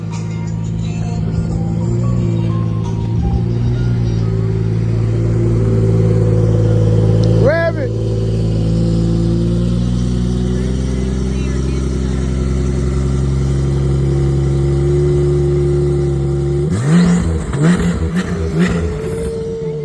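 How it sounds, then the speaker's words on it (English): A Porsche at a car show pulls away with its engine revving, a loud, steady engine drone that rises near the end, with people talking over it throughout. "There go the Porsche."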